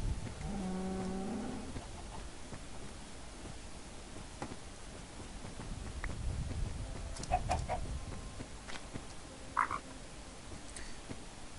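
A cow lowing in the Minecraft video game, heard as a few mid-pitched moos over a dark ambient backdrop with scattered faint game noises; no talking.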